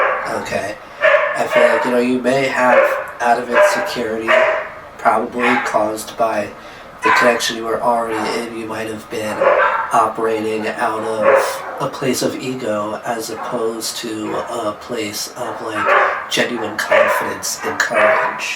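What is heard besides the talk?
dogs barking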